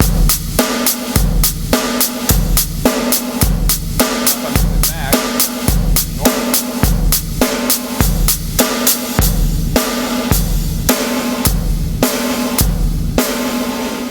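Drum kit played with doubled hi-hat strokes in a steady eighth-note pattern over a repeating kick and snare groove, loud and close throughout, with no talking.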